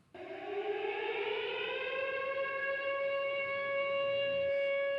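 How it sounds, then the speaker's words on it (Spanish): A civil defense siren sounds at 14:50 to mark 32 years since the deadly attack on the Israeli Embassy. Its wail rises and then holds a steady, loud, continuous tone with no speech. "La sirena sonó a las 14:50 en punto, cuando se cumplieron 32 años exactos del cruento atentado a la Embajada de Israel"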